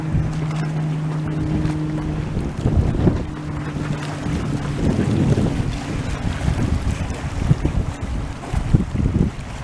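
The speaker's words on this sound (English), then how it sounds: "Definitely windy today." Gusty wind blusters across the microphone on a rocky trail at Indian Point. The roar is loud and uneven, swelling and buffeting in irregular bursts, with no talk.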